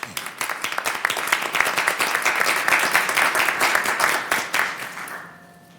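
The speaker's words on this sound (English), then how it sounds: "Mr. Crowder, a round of applause for you" Applause for Mr. Crowder at a council Finance and Administration Committee meeting: a dense, steady round of clapping from the room that holds for about five seconds, then fades out quickly.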